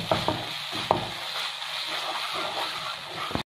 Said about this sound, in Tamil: இப்போ இந்த அரைச்ச இஞ்சி பூண்டு விழுது, அரைச்ச சின்ன வெங்காயம் இதெல்லாம் சேர்த்து வதக்கும்போது இதோட பச்சை வாசனை நல்லா போயிடணும்